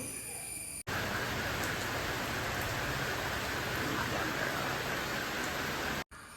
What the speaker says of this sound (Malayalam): സമയത്ത് നല്ല മഴയായിരുന്നു കേട്ടോ പുറത്ത്